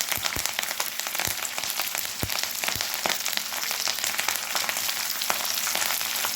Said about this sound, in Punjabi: ਤੜਕਾ ਲਾ ਲੈਣਾ ਆਪਾਂ ਦਾ